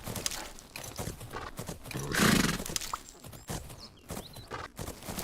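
Hooves clip-clop steadily from a horse in the video game Fernhoof Grove, with a loud whinny rising midway over the footfalls.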